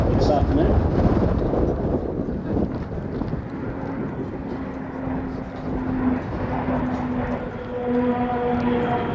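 Strong afternoon wind buffets the microphone at a RAAF CT-4 aircraft farewell, a steady loud roar rumbling throughout, with a faint engine drone under it.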